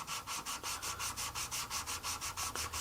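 Knife blade hand sanded with abrasive grit, a steady rhythmic rasping of about fifteen even back-and-forth strokes, close and clear with no voices.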